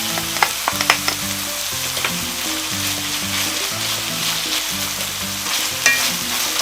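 Paella ingredients with jamón sizzle and crackle steadily in hot oil after a splash of soju, while a utensil scrapes and stirs them around a pan, with no talking.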